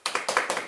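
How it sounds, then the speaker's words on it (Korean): A quick run of hand claps from a small group at a social welfare practicum orientation session, with several bright, close bursts following one another rapidly in a brief, lively round. "일단 박수 한번 칩시다."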